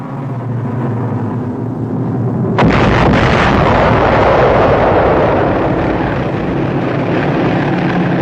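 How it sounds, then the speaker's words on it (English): Bombs explode during a World War II Allied attack on German positions in March 1945, with a low droning rumble giving way to a sudden heavy blast and a sustained roaring, crackling din. "Bombs start huge fires."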